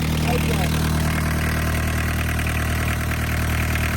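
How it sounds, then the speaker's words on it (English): A mechanical diesel engine in a barn-find VW Caddy idles steadily and close by just after starting, a continuous low rumble with a rough, even throb and no change in pace. "this is why you need a mechanical diesel engine"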